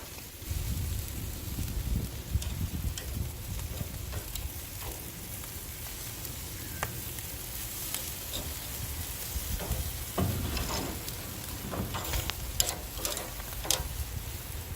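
BBQ chicken wingettes cooking over the fire on a Kamado Joe grill, giving a continuous low sizzle with scattered pops and crackles, moderately quiet and steady, with no voices.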